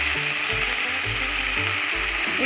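Country chicken sautés in a pan with ginger, garlic and green chili paste, giving a steady close hiss of frying over a rhythmic, low scraping thud as the mixture is stirred.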